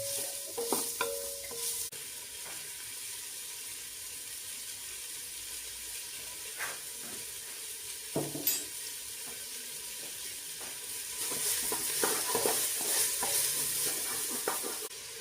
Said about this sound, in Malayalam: സവാള ഇളം ചുവപ്പ് നിറം വരുന്നത് വരെ